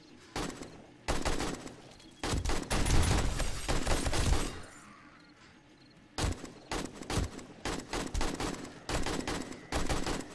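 Bursts of gunfire in 7 Days to Die during a horde night, rapid loud volleys in several clusters separated by quieter gaps, close and sharp.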